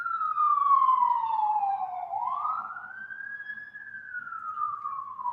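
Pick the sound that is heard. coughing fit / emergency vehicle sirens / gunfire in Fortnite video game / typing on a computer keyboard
emergency vehicle sirens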